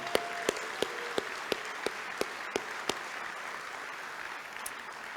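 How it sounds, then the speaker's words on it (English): A Rotary club meeting audience applauds a guest speaker, with a run of sharp, evenly spaced loud claps standing out over a softer bed of general clapping that thins toward the end. "One more time, a round of applause for Dr. Durant."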